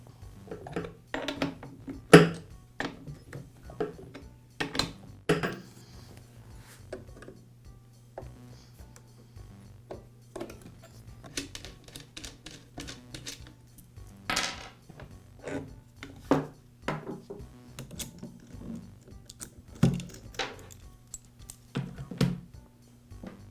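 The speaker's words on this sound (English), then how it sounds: "I'll begin by removing the side cover, the chain, and the bar." Side cover, chain and bar coming off a Poulan chainsaw, a string of scattered close clicks, clanks and metallic rattles at an irregular pace, with no talk.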